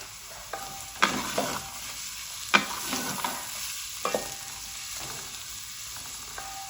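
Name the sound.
bitter gourd frying in oil in a pan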